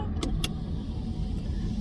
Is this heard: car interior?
yes